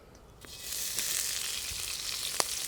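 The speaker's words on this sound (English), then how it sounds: "That is a lovely sort of gentle sizzling sound." Gentle, steady sizzling of garlic and ginger frying in oil for a stir fry, a soft continuous crackle with a few sharper pops, close by and with no voices.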